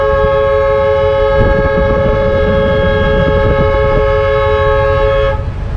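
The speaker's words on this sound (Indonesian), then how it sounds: "itu suara tanda kapal akan merapat" A loud, sustained ship horn signalling docking blares steadily for several seconds at an island in Papua, with a low rumbling drone underneath, then cuts off near the end.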